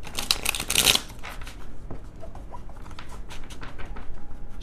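A small tarot card deck is shuffled up close, with a dense burst of riffling card flutter in the first second followed by softer scattered card taps and handling.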